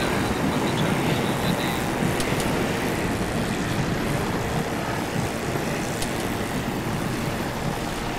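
A dense, continuous roar of a helicopter's rotor and engine fills the clip, loud and steady throughout with no talk.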